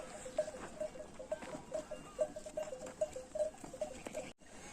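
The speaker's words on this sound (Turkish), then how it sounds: "O da bir grup koyun getiriyor bakın" Faint bleating and small bells from a flock of sheep, repeated calls spaced through a quiet outdoor scene, heard at a distance.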